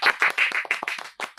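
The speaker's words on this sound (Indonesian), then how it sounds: "Kita tepuk tangan dulu dong untuk kakak cantik." A group claps for a guest at a university economics faculty orientation event, short brisk rounds of hand claps close by and fairly loud, with no talk over them.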